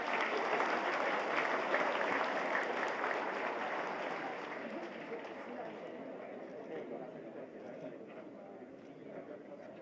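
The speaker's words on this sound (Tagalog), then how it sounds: "You clap your hands." An audience at a graduation commencement ceremony applauds in a dense, sustained wash of clapping that slowly eases, with a murmur of crowd chatter mixed in.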